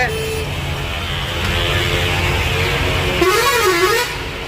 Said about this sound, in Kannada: ಹಿಂಗೆ ಹಾರನ್ ಸೌಂಡು